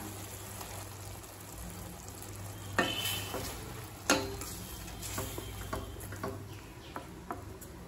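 A spoon stirs ground coconut paste into mushroom kurma simmering in a pan, giving soft scraping strokes and a few sharper knocks over a faint, steady sizzle, with no talking.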